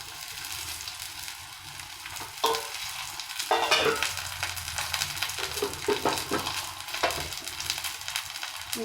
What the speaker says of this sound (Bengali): আমার ফ্রাই প্যানটা গরম হয়ে গেছে, আমি একটা তেলের মধ্যে দিয়ে ভেজে নেব